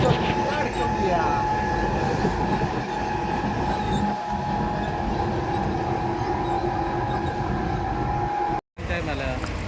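A crowded passenger train in Mumbai rumbles loudly and continuously, with a steady mechanical hum and the murmur of a crowd of voices inside the carriage.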